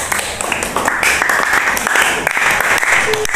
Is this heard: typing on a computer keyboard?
no